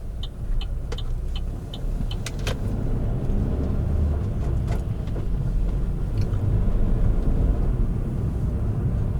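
A car cruising through city streets on a mild winter day, a steady low engine and road rumble filling the cabin, with a few faint clicks and light ticking sounds now and then and no talking.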